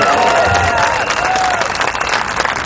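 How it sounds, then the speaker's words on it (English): A large outdoor crowd at a protest rally in Hong Lim Park claps loudly and continuously, a dense sustained roar of applause with no pauses. "Another round of applause for PTO."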